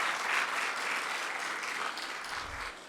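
Audience applause after a talk at an engineering ethics lecture, a steady wash of many hands clapping from the crowd, fairly loud and even throughout with no voices over it.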